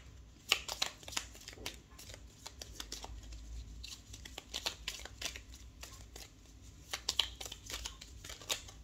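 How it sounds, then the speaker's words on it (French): Oracle cards are shuffled and drawn by hand, giving soft, quiet riffling and papery flicks in uneven bursts, close up with no talking. "On va tirer une dernière carte, un petit message avec le petit oracle de Gaïa."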